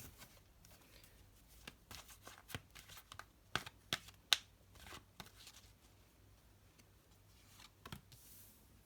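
A tarot deck is shuffled in quick, crisp riffling bursts with soft slaps and ticks, close up and fairly quiet, with brief pauses between.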